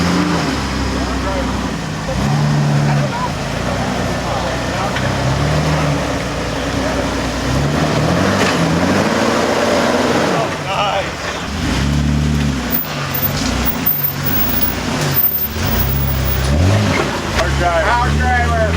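A big Jeep engine revs and surges in repeated bursts while driving an off-road course at Frontenac Farms, loud and close, with voices talking over the engine throughout.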